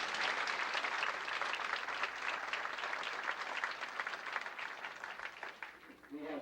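An audience applauds a pianist at a first-grade grandparents' day program, a steady dense clapping that fills the whole span at close range and tapers slightly near the end.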